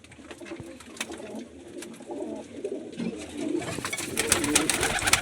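Domestic pigeons kept on a multi-storey rooftop loft coo in soft, repeated throaty calls close by, with wing flutters and scattered bird noises growing busier toward the end.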